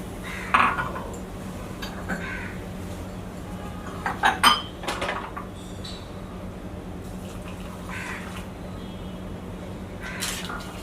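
Coffee cups knock together in a toast, giving a few bright clinks clustered in the middle, with scattered lighter taps of crockery before and after against a quiet room.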